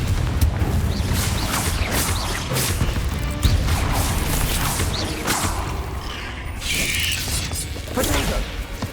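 Confringo fire spell cast in Hogwarts Legacy gameplay: a dense, loud run of crashing, whooshing blasts and impacts layered over game effects, continuous for several seconds.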